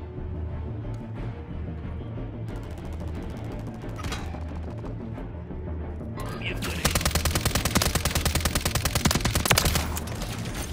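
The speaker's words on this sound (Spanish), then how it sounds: "A mí me están disparando, pero no sé de dónde." Rapid automatic gunfire in Call of Duty, with bursts of machine-gun shots that thicken into a dense fusillade in the second half, loud and close, with a voice talking under the game noise.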